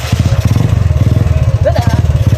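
A motorcycle engine runs close by with a rapid, pulsing putter of steady low beats, chugging evenly through the whole stretch; a voice briefly speaks over it.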